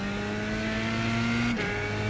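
Race car engine in iRacing at Zandvoort National, holding a steady high drone then abruptly dropping in pitch on a gear change or lift, close and continuous for about two seconds.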